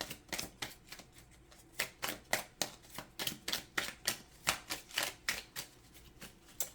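Tarot cards are shuffled in quick, crisp riffling bursts, roughly a dozen sharp flutters in an uneven rhythm, close and fairly quiet with no talking.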